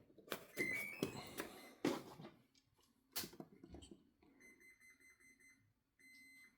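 A series of short electronic beeps and tones from an RC F-22 Raptor model jet, some rising, mixed with clicks and handling noises, then a steady repeated beeping toward the end.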